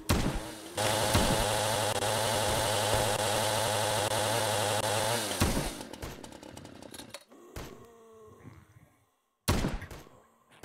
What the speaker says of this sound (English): Using the chainsaw is handy.